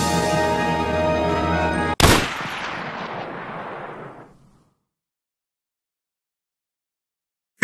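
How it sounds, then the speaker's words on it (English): A single sharp, loud gunshot cuts off a steady noisy background and rings into a decaying echo that fades to silence, followed by another abrupt burst at the very end. "I can't believe my own daughter shot me"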